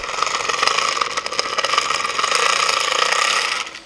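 A cheap Temu BBQ blower costing under £2 runs loudly and steadily for a few seconds with a broad whirring, buzzing hiss, close by, then cuts off sharply at the end.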